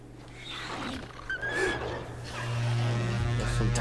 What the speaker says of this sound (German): Das hörte sich irgendwie an wie ein Wolf, der gequält wurde.